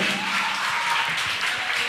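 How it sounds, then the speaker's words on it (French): An audience applauds students at a school quiz competition, a brief burst of clapping about two seconds long with faint voices underneath. "je vous demande encore de vous applaudir, s'il vous plaît, chaudement"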